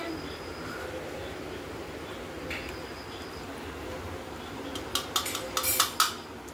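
A spoon clinks against a plate while a family eats chow mein at home, a few light scraping taps and then a quick cluster of sharper clinks near the end over quiet room hum.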